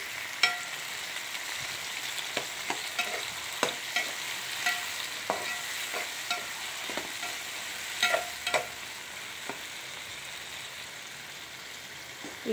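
Green chillies and tomatoes fry in a pan with a soft, steady sizzle, punctuated by repeated light clicks and scrapes of stirring throughout.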